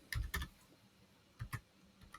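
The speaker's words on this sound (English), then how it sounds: "just go into the URL and at the end, just type in ampersand" A few quiet, close computer keyboard keystrokes in two small clusters as a URL query string is typed, with no voice.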